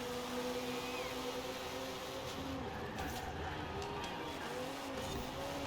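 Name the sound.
Audi race car driving and braking in a racing video game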